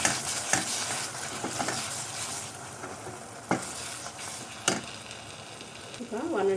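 Ginger garlic paste fries in hot oil for paneer butter masala, a steady close sizzle with scattered scraping clanks of a spoon stirring the pan.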